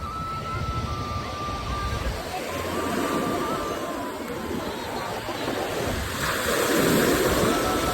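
Sea waves wash up on the beach at Visakhapatnam, a steady broadband rush of surf close by that swells louder near the end, mixed with wind buffeting and faint voices in the background.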